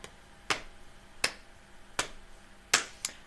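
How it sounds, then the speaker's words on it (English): Hands patting a lap and clapping in a simple children's story-hour rhythm: five sharp, close slaps spaced at a steady beat, the last two coming closer together, with quiet room tone between and no talking. "You pat your lap and clap your hands"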